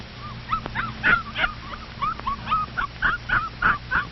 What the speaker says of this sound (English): the puppies want to play in the box where they sleep